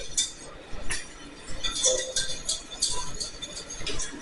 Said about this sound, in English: I'm gonna stir that.